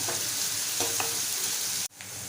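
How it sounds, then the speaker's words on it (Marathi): Onion sautés in hot oil for a Malvani brinjal dish, a loud, dense, steady sizzle with a few stirring scrapes, then an abrupt drop just before the end. "एक दोन मिनटं आपल्याला कांदा तेलामध्ये छान परतून घ्यायचा आहे"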